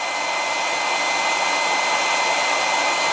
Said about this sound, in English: Let's try the hairdryer method.